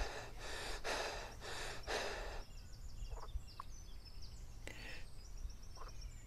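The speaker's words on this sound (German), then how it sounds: "Der schnauft. Ja, schnauft." A creature in the video game Road to Eden snorts in four loud breathy bursts at a steady rhythm, followed by fainter snorts and chirpy calls over a low rumble.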